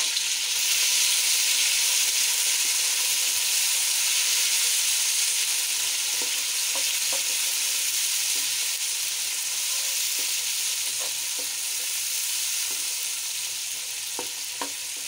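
Tomatoes added to a browned mixture in a pan for aloo baingan fry with a steady, even sizzle throughout, with occasional faint stirring clicks and no talking.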